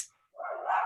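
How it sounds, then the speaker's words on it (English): A single dog bark heard in the background during a home video call, a brief sharp bark near the end after a quiet gap. "I apologize for my dog in the background."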